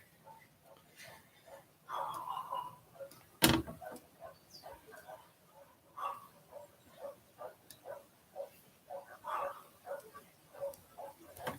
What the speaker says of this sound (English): You can hear the dogs going nuts.